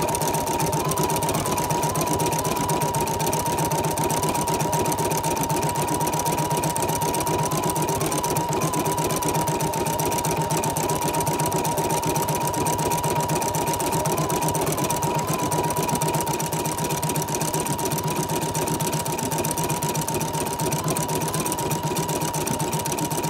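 Embroidery machine stitching rayon thread onto a sweatshirt, a steady, fast mechanical rattle and hum running unbroken for over twenty seconds at close range, with no voices.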